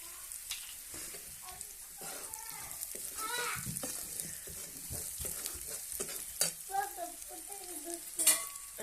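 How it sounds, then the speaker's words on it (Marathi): Cumin and mustard seeds sizzling and crackling in hot oil while being stirred, a steady soft frying hiss with scattered pops. "जिरे टाकूया थोडेसे नंतर मोहरी टाकूया"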